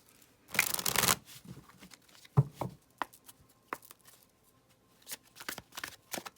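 Tarot cards riffle-shuffled up close in one loud burst, followed by scattered soft taps and snaps of cards being handled and laid down.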